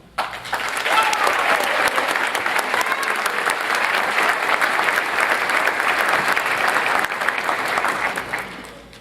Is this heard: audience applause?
yes